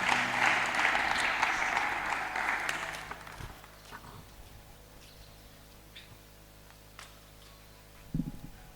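Audience applause at a youth debate event fills the opening three seconds, loud and dense, then fades away, leaving a quiet room with a few scattered small knocks and a brief thump near the end.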